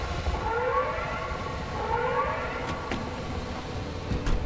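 Warning siren signal from an otherworldly threat in the Pacific Drive driving game, a wavering tonal wail rising and falling steadily across the clip over a rumbling engine-like background, with a couple of sharp bursts near the end.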